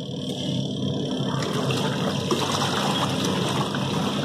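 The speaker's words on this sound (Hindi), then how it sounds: "प्रॉपर तरीके से मशीन जो है ना अच्छे से घूमने लगी है" A washing machine spins a load of water and clothes, producing a steady churning, sloshing wash of water that runs continuously throughout.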